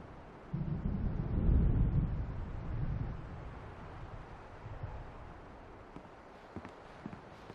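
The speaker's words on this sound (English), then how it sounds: "The storm is almost here." A rolling rumble of thunder from a game thunderstorm in Alan Wake swells near the start, peaks around the second mark and fades into a low windy murmur, with a few faint scattered knocks near the end.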